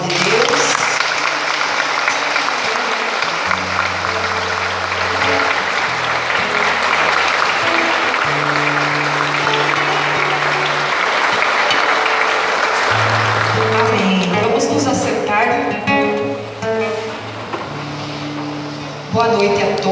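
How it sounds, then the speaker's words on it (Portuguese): A church congregation applauds after a scripture reading, a sustained roar of clapping under low sustained music tones, thinning near the end as voices begin. "Podemos aplaudir a palavra de Deus."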